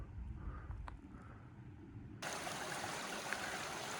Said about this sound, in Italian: Ruscelli dappertutto comunque